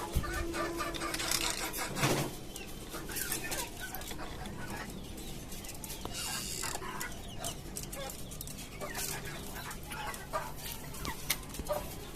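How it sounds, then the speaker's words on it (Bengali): Chickens and a tiger rooster cluck throughout on a poultry farm, with a brief crow and some wing flapping, while a person talks intermittently over the flock. "যে আমার আর একটা টাইগার মোরগ"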